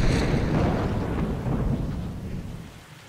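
A heavy rolling rumble of thunder in the video game Arma Reforger, loud at first and fading slowly as rain hisses beneath it, with no voices.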